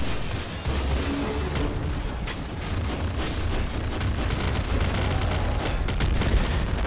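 Rapid, continuous saw blade gun fire in the roguelike game Nuclear Throne, a dense loud barrage of overlapping shots and impacts with no break across the whole stretch.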